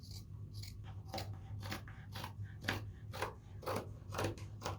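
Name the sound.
scissors cutting across a T-shirt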